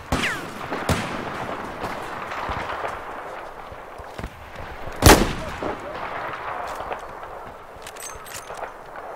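Sniper rifle shots in Battlefield 4, a few sharp isolated cracks scattered among background battle noise, one standing out loud near the middle, with distant explosions and clatter around them.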